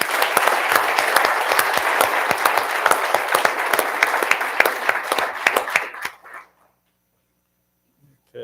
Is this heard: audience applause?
yes